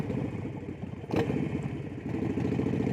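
A Harley-Davidson Sportster motorcycle passes with a rumbling, uneven engine note. A brief louder clatter comes midway, and the engine grows slightly stronger toward the end.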